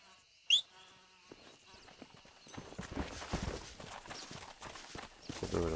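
Horse hooves clop in Red Dead Redemption, faint at first and then growing into a steady rhythmic trot as the horse draws near, after a brief whistle-like call at the start.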